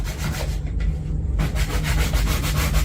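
A drywall patch is sanded by hand in steady back-and-forth rubbing strokes. The scraping is loud and close and continues without pause, with no voices.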